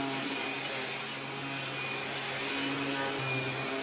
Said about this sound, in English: I brought along a special vacuum cleaner